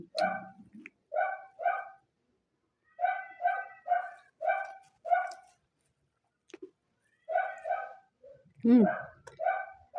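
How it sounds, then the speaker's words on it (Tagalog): A dog barks repeatedly in short clustered bursts, a pause, then more barking and a yelp, sounding fairly close against a quiet background. "aso ng kapitbahay namin, guys, ang ingay"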